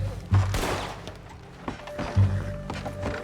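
Gunfire rings out in the Red Dead Redemption 2 video game, two heavy booming shots a couple of seconds apart with clattering hits between, close and loud, with a voice nearby.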